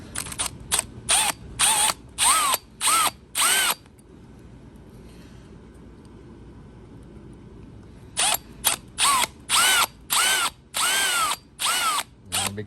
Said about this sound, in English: So all we have to do is drill a tiny hole right there to apply pressure to the sidebar.